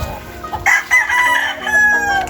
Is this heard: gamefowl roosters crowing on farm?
yes